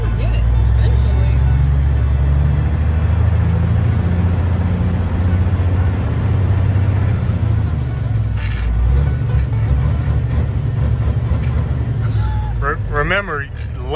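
A 1984 Peterbilt 359 truck's engine runs loud and close with heavy low rumble, rising and falling in revs, while people talk over it.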